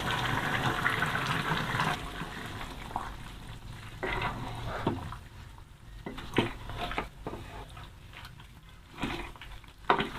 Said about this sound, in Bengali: মাংসগুলোকে একটু নেড়ে দিতে হবে।